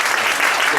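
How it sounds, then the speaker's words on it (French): A hall audience applauding, a dense steady wash of many hands clapping at close range, loud and continuous throughout the brief moment. "la salle va t'applaudir d'ailleurs parce que c'était"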